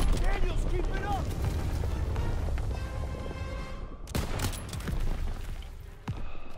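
Sniper rifle shots in Call of Duty WW2 gameplay, sharp booming cracks over a constant battlefield rumble with distant gunfire, fairly loud, with voices talking in between.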